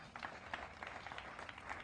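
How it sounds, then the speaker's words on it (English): Quiet, distant audience applause at an outdoor groundbreaking ceremony for a Milwaukee health and human services center, steady scattered clapping throughout. "Please give a round of applause for that."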